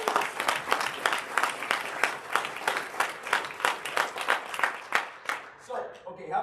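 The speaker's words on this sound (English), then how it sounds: "Let's give them a round of applause." A roomful of people applaud standing mentors at a sales-team gathering, continuous clapping for about six seconds before thinning out, with a voice beginning to speak at the very end.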